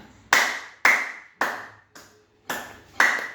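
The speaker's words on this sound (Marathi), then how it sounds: "हात पहिले छान गरम करायचे आणि टाळ्या वाजवायच्या छान." Six sharp hand claps during a seated Sukshma Vyayam exercise, evenly spaced at roughly half-second intervals with one softer clap, each with a brief ringing tail, close and alone without talk.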